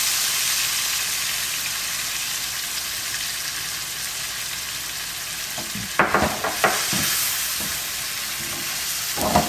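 Cumin, coriander, turmeric, red and Kashmiri chili powder soaked in water sizzle with tomato in a pan for dum aloo, a constant loud frying hiss broken near the end by a few spoon scrapes and stirring knocks.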